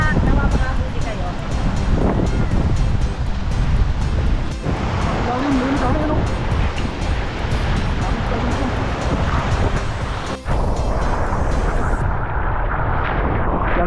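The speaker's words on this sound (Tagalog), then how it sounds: "Sa totoo lang, napakalakas ng alon." Strong ocean waves surge and crash around a small sea-fishing trip off Imelda, San Juan, a loud continuous roar buffeted by wind noise, with voices talking now and then underneath.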